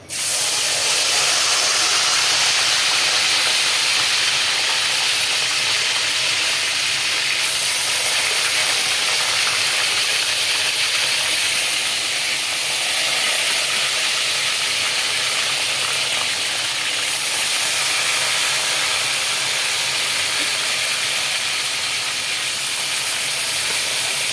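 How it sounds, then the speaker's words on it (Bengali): Peanuts frying in a pan of hot oil on a stove give a steady, loud, dense sizzling hiss that runs without pause, with slight swells in intensity and no talking. "তেল গরম হয়ে গেছে এখন বাদামগুলো ছেড়ে দেব ভেজে নেব"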